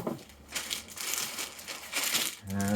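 Original plastic packaging around an ART TCS twin compressor unit is handled up close, giving a run of crinkling, crumpling rustles with a few sharper crackles and no talking.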